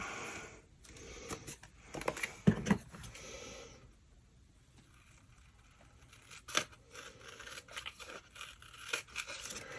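Paper being cut with scissors or a trimmer at a desk for a December Daily scrapbook project, heard as a few quiet snipping and tearing strokes in short bursts, close and faint, with pauses of near silence between.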